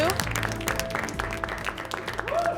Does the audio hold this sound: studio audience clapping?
yes